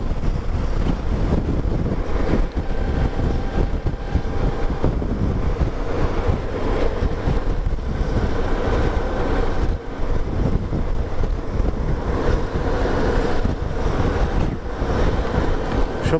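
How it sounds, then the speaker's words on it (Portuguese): Strong wind buffets the microphone on a bridge, a steady roaring rumble that stays loud and unbroken throughout, with no voices heard. "Tá ventando demais aqui."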